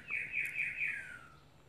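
Birds sing outdoors in the distance, a string of four or five quick rising-and-falling chirps in a steady rhythm that fades away, faint and clear, with no one talking.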